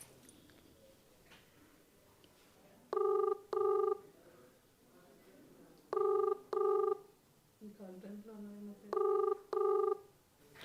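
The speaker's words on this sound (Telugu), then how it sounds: "చూద్దాం, నంబర్ రింగ్ అవుతుంది." A telephone ringback tone sounds during an outgoing call in three paired bursts of ringing, evenly spaced, with faint talk and a low hum in between.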